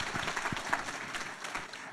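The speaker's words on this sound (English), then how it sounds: "Give it a round of applause for Ensure Success." An audience gives a steady round of applause, dense clapping at moderate distance holding throughout with a few sharper individual claps.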